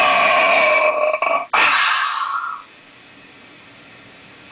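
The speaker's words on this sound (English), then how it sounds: "I can't burp now?" A loud, drawn-out burp rips close to the mic for about two seconds, breaks briefly, resumes and tails off into quiet.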